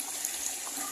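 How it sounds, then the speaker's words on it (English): Water gushes steadily from a tank into jerry cans, a brief bright hiss of flowing liquid, close and fairly quiet with no talk. "taking the water from the tank there up to these jerry cans there"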